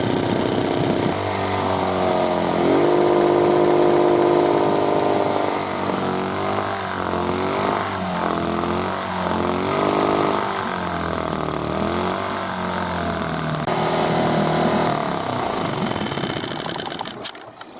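A small engine that was hard to start because of a clogged fuel supply idles close by in the Komi forest, running loud and continuous with a slightly wavering, uneven pitch before cutting off at the end.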